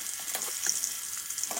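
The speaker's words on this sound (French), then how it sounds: "Maintenant, on va frire la viande. Il faut frire, laisser dorer." Meat fries in oil in a pan, a steady bright sizzle with crackling pops and occasional stirring scrapes, close and moderately loud, with no talking.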